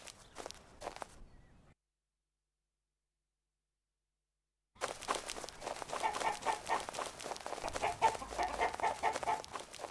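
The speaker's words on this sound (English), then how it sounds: "Yeah, there was a chicken inside." Chicken clucks and footsteps in a dungeon crawler game, heard briefly at the start before a gap of silence and then continuing steadily at moderate loudness alongside rustling game sounds.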